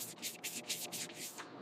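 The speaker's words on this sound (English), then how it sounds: "We're using 1500 grit wet paper now, keeping the surface wet to gently remove the texture." Wet sanding a car's clear coat with 1500 grit paper on the fender of a 1933 Pierce-Arrow Silver Arrow, a quiet close rhythmic rubbing of about seven back-and-forth hissing strokes with no voices.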